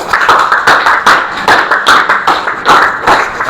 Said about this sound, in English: Give him a big round of applause once again.